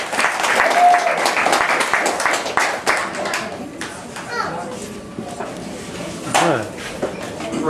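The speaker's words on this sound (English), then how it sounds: "A round of applause" An audience at an outdoor community gathering claps in a scattered round of applause, loud at first and then thinning out, with children's voices and chatter mixed in.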